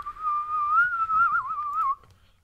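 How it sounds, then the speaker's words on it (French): A sustained whistling tone from a sword in the Baldur's Gate video game rings steadily for about two seconds, wavering slightly in pitch near the end before cutting off abruptly, loud and alone. "c'est des vraies épées qui fonctionnent bien, quoi. Quand elle siffle."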